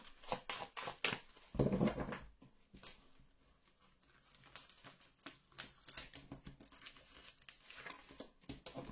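Tarot cards are handled at close range for a 13-card reading, giving soft irregular taps, slides and papery crinkles with a brief louder rustle near the start.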